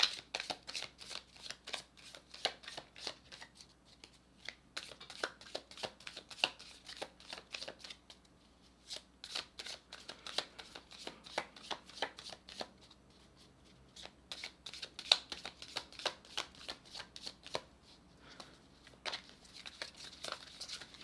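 A deck of playing cards being shuffled over and over, with bursts of crisp riffling and flicking snaps coming in quick runs and short pauses, close by and fairly quiet, with no one talking.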